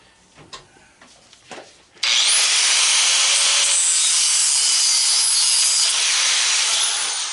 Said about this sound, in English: I'll go ahead and cut this off of here real quick.